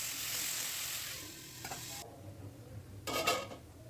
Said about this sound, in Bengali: আলুগুলো একটু ভেজে নেব, একটু ঢেকে ঢেকে ভেজে এবার আমি ঝোল দিয়ে দেব।